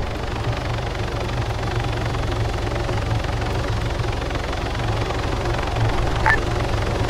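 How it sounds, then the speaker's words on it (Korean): A helicopter approaching in the video game Arma 3, a loud, steady rotor chop and engine drone that fills the whole clip with no one speaking. "헬기 오는구만."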